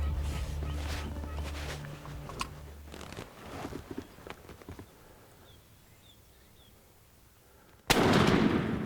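A single loud, sharp shotgun blast fired at a wild turkey during a spring hunt outdoors, arriving suddenly near the end after hushed whispered talk and a quiet pause.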